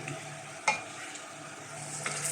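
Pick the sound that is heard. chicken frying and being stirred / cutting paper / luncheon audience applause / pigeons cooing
chicken frying and being stirred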